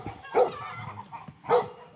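A dog near a fence at a homestead barks twice, about a second apart, moderately close, each bark short and sharp against a quiet outdoor background, with no talking.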